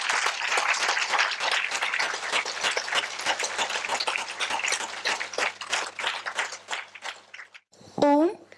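A hall audience claps in a long, dense burst of applause at a Patanjali Research Foundation talk on yoga and holistic health, fading near the end before a lone voice speaks.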